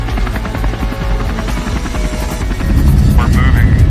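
A helicopter flying at about 70 knots gives a loud, steady rotor and engine drone with rhythmic blade chop that fills the whole clip and grows slightly heavier toward the end.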